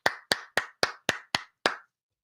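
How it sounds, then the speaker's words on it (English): A single person gives seven sharp, close claps at an even pace before stopping, each one crisp and isolated against silence. "I'll give that a little bit of applause, too."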